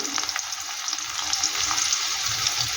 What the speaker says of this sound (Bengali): একটু কালো জিরা ফোড়ন দিয়ে দিলাম দিয়ে দিলাম পেঁয়াজ